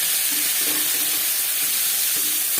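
Whole cumin seeds and chilli frying in hot oil, an even, dense sizzle and crackle holding steady from start to finish with no voices.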